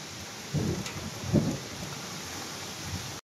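Heavy rain pours steadily in an evening storm, a dense continuous hiss with a couple of soft low thumps, no voices, cutting off abruptly at the end.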